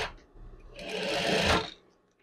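A domestic sewing machine stitches a seam in a short burst of rapid whirring that rises and stops, heard alone and close.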